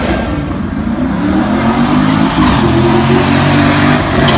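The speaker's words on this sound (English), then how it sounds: "Bring it up, does a burnout." A Tesla on racing slicks does a burnout at a drag strip, producing a loud, sustained roar and tire squeal at close range that holds steady throughout.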